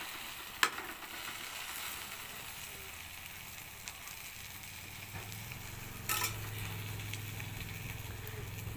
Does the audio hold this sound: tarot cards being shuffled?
no